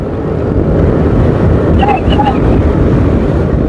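Strong sidewind buffets a microphone during a 120-rider road cycling race, a loud, steady roaring rumble that lasts the whole stretch, with a brief faint voice partway through.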